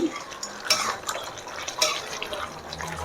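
A spoon scrapes and clinks against a pot while chicken fry is stirred, giving irregular soft knocks and a wet shuffling sound, near and fairly quiet.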